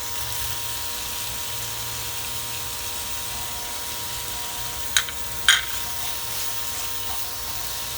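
Onion, garlic and ginger frying in a pan outdoors for chicken madras give a steady, even sizzling hiss, broken by two brief sharp clicks near the end.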